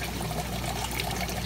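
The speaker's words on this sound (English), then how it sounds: "You can hear the auto water change system running." Water runs steadily from the lines of an automatic water change system into a fish room of 55 guppy and platy aquariums, a continuous close trickling and pouring wash with no talking.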